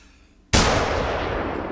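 A single loud rifle shot at a bison in theHunter: Call of the Wild, a sharp sudden crack after quiet, followed by a long echoing tail that slowly fades outdoors.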